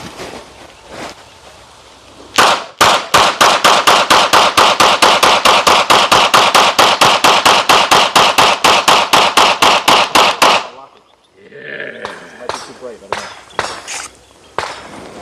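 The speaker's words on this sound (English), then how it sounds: "Got a 33 round OEM Glock mag in here. Let's do a mag dump." A PSA Sabre Dagger pistol empties a 33-round OEM Glock magazine in one rapid, evenly spaced string of loud, sharp shots lasting about eight seconds, followed by scattered clatter and a few louder impacts afterward.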